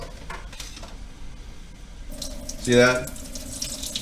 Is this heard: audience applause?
no